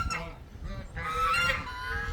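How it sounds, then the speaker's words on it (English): A young rooster, one of the farm's babies, gives a short, strained, honking crow close by, a single call about two seconds long with no talk over it. "And there's our new rooster."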